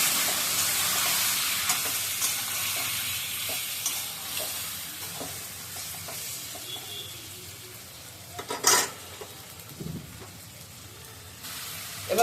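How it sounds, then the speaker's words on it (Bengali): Fenugreek seeds crackle and sizzle steadily in hot oil while being stirred in a pan, with scraping and a few louder clinks near the end; no talking. "এবার ওই তেল যে রয়ে গেল, তাহলে ফোড়ন দিব মেথি ফোড়ন। মেথিটা ফুটে উঠছে"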